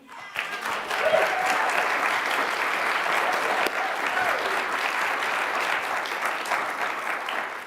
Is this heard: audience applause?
yes